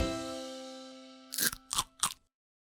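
Three sharp close crunches of someone biting and chewing crunchy Japanese matcha red bean chocolate, spaced evenly after a fading ringing tone, then silence.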